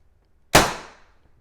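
A single sharp pop from a PepperBall TAC-SF launcher being fired, a close, loud crack that decays over roughly half a second and then falls into quiet, with no voices.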